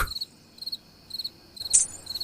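Crickets chirp in a still night setting, their high trilling pulses repeating in short, regular bursts, steady and fairly close, with no voices present.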